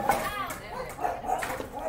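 Pugs barking in repeated yaps from nearby, mixed with people talking over them.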